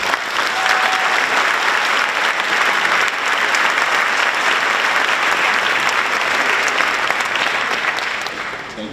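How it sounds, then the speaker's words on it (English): A school scholarship-night audience applauds a pianist with a full, even wash of clapping that holds strong before tapering slightly at the end. "A round of applause for Jordan Mongo for playing the piano tonight."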